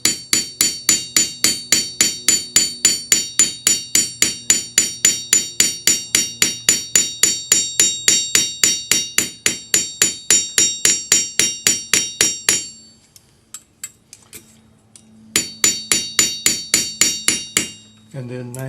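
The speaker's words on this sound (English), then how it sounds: "So I'm just using my little jeweler's hammer with the wedge end." A small wedge-ended jeweler's chasing hammer strikes a metal bangle resting on an anvil, ringing in a fast, steady run of bright metallic taps, then a short pause and a second burst of blows.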